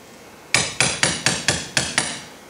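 Seven evenly spaced metallic hammer taps drive a socket to seat a part during an aircraft-style engine crankshaft and flywheel assembly, each strike sharp and close with a short ringing decay, and no voices.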